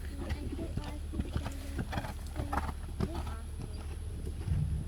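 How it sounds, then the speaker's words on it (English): Horses canter around a riding arena during a show practice, rhythmic hoofbeats thudding at moderate distance with a faint neigh, under an announcer's voice and people talking nearby. "All riders, please show at the canter."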